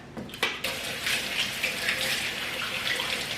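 Running tap water splashes steadily for a few seconds while asparagus is rinsed at a kitchen sink, with a couple of brief knocks near the start; no one speaks.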